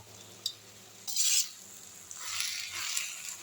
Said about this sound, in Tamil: நான் கிண்டிட்டு காட்டுறேன்